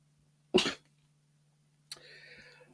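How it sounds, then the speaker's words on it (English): A single sharp cough in a quiet room, followed a moment later by a longer raspy throat sound. "I hope that cough doesn't come back"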